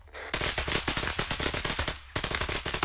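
Gunfire in the ArmA military video game comes as loud, close bursts of rapid automatic shots that crackle almost nonstop. There is one short gap before the firing starts up again.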